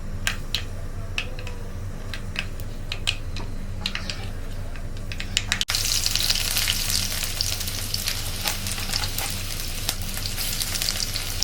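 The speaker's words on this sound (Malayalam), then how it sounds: "ഇപ്പം എണ്ണ ചൂടായിട്ടുണ്ട് നമുക്ക് ഇതിനകത്തേക്ക് കുറച്ച് കടുക് ഇട്ട് കൊടുക്കാം" Mustard seeds and fenugreek sizzle in hot oil for a Kottayam-style fish curry, with sharp popping ticks scattered over a steady fry until a sudden louder, denser hiss takes over halfway and continues.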